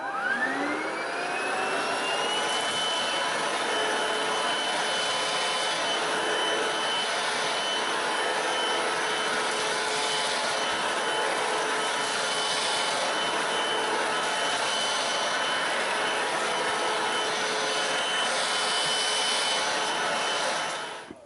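Hoover Cruise+ cordless vacuum cleaner spinning up and running on carpet, a loud steady high whine and airy roar that holds unchanged for about twenty seconds before cutting off, close and with no voices.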